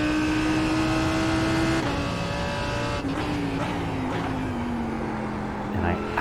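Race car engine in the iRacing sim at Montreal, a loud continuous high whine that dips on the downshifts and then climbs again as the throttle is picked up, with a voice talking over it.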